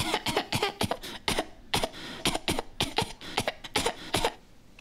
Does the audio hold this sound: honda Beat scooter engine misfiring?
no